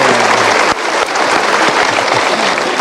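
An audience at a motivational seminar bursts into dense, steady clapping, loud and sustained throughout with no voices over it.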